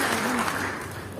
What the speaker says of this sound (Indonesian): Yang setuju boleh berikan tepuk tangan yang paling meriah dulu buat Tuhan.